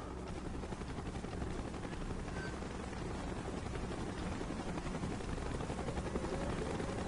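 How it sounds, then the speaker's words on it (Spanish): Helicopter approaching in the Call of Duty Black Ops video game: a steady, loud rotor drone with dense low-frequency chopping that holds evenly for the full stretch, with no voices over it. "Helicóptero en camino, vamos."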